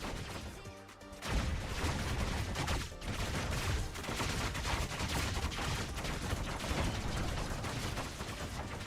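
Heavy, continuous gunfire and explosive impacts from robot weapons in the War Robots mech battle game, loud and dense throughout after a brief quieter opening, with a short dip near three seconds.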